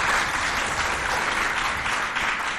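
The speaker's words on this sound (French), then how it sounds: "On les applaudit bien fort." An audience at a school quiz contest applauds the children for a correct answer, with thick, continuous clapping at moderate loudness and no speech.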